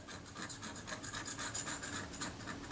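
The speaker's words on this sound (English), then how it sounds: "Alright, scraping off all this crap." Scraping corrosion, leatherette and adhesive off a Retina IIc camera body, a steady rapid rasping scratch repeated in quick strokes, close and fairly quiet.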